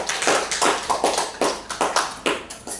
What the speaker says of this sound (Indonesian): Kita beri aplaus untuk Pak Andre.